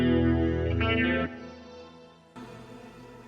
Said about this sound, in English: I think that one I went down to my bridge pickup. Sounds a little twangier.